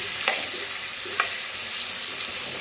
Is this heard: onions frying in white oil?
yes